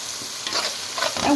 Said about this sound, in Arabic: هنزل بقى بمعلقه ثوم مفروم وهقلب